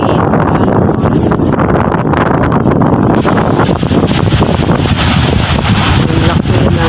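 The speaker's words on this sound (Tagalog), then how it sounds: "Ang laki ng hangin." Strong wind buffets the microphone in a loud, continuous roar by brown, churning water, with a voice speaking underneath.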